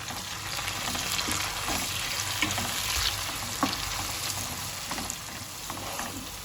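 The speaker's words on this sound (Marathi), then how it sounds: "त्यात बारीक केलेला टमाटो टाकू आणि टमाटोसुद्धा मऊ होईपर्यंत परतून घेऊ" Finely chopped tomato sautéed in a pan with garlic and green chili, a dense, continuous sizzle with frequent stirring scrapes, close and steady throughout.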